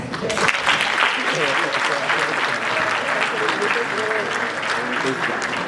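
Audience applause fills a political party gathering in Toronto, Canada: dense, steady clapping from a large crowd, fairly loud and continuous throughout.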